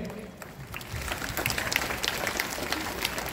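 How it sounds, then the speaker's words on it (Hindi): A crowd at a Hamirpur parish youth gathering claps to welcome a guest, the applause swelling after a quieter start into a dense, sustained patter. "अभी हम जोरदार तालियों से हमारा गेस्ट का भी स्वागत करेंगे"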